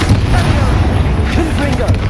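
A Confringo blasting spell explodes in the Hogwarts Legacy video game, with a deep, rumbling boom that fills the short stretch beneath a voice.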